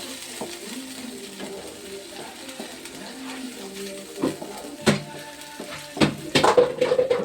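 Amaranth leaves fry for curry in a pan, a steady soft sizzle running beneath scattered scrapes and clinks of a utensil against the metal, the stirring growing busier and louder toward the end.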